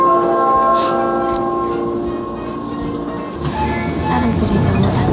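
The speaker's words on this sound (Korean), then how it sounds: "지하철 왔어." A subway train pulls into Jongno 3-ga station in Seoul with a loud, sustained rumble, whining rail tones and a brief horn-like swell, while voices carry underneath.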